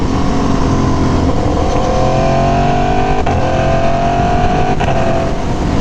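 An Aprilia Tuono V4 1100 Factory motorcycle engine drones loudly while riding on the road, its rising rev pitch climbing across gear pulls with brief dips between shifts over steady wind rush.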